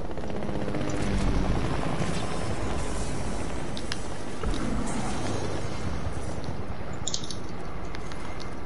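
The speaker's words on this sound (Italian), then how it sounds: "Elicottero." A military helicopter in the video game Squad makes a steady, dense rotor and engine roar that stays constant throughout. No voices sound over it.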